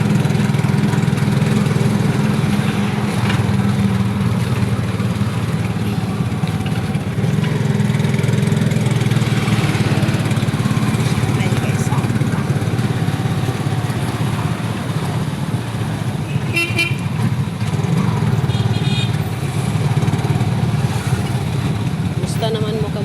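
Motorized pedicab ride with a loud, steady engine drone and rattle throughout, with road noise and faint voices in the background.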